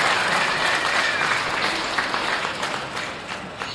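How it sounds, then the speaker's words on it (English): Steady round of applause from a crowd at a youth livestock expo barrow show, honoring the show judge; dense, sustained clapping fills the space and tapers slightly toward the end. "let's give a big round of applause to David Corr of Oxford, Ohio, judging our show today"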